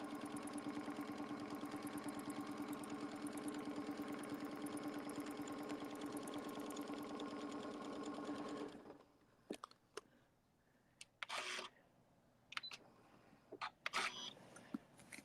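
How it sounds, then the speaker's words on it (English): A sewing machine stitches forward and back on a log cabin quilt panel, first as a steady, close mechanical whir with a fast rhythmic hum for about nine seconds, then brief clicks and short bursts of handling noise. "Few stitches forward, few stitches back."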